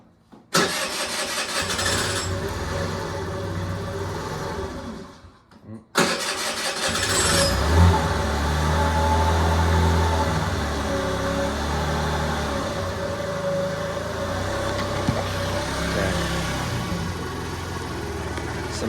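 A Yiben YB50 49cc carbureted scooter engine cranks briefly, falls quiet, then catches and settles into a loud, steady, buzzing idle close by.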